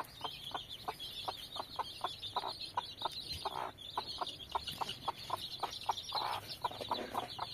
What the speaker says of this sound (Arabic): والباقي هذا العراقي دجاجنا الاصلي